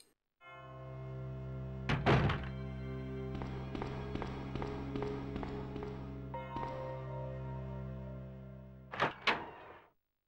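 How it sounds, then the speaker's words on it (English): Safe unlocking in the Resident Evil 2 game: a sharp mechanical clunk, then a run of rapid metallic clicks and ratchets, another thunk, and a final pair of heavy clanks as the door swings open, all over a steady low game ambience. "I'll go and unlock that safe."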